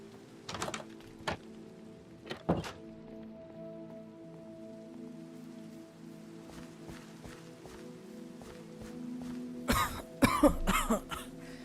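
Person coughing in rainy, miserable weather, several sharp isolated coughs at moderate distance, then a cluster of harsher coughs near the end, over a constant patter of rain and a low steady hum.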